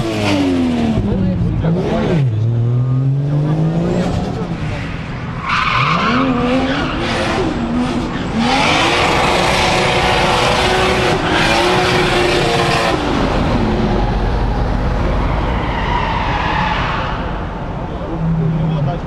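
Drift cars sliding at a Vladivostok drift event, engines revving with rising and falling pitch as tires skid and squeal in long loud bursts, crowd noise and voices throughout.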